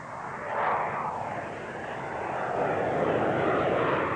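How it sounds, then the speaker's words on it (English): A Royal Air Force Harrier attack jet roars past with a broad, steady jet noise that swells and holds throughout, with no voices. "A frontline attack aircraft of such capability is the RAF's Harrier."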